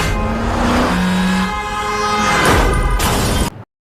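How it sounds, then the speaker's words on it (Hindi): A car on a road roars steadily and loudly close by, engine tone rising and falling with a horn-like tonal blare in the middle, then cuts off abruptly. "पीछे देखो, तुम्हारी गाड़ी आ रही है, वो तुम्हें लग जाएगी"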